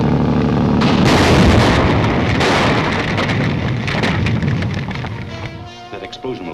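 A loud explosion in a 1939 film serial, a broad rumbling roar that stays heavy for several seconds, then fades into scattered crackling debris with a voice cutting in near the end.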